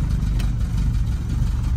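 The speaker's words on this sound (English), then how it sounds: "Ooh, it's not idling very well." A Lotus Elan restomod's engine idles roughly up close, a deep, uneven rumble with irregular pulsing and no voices over it.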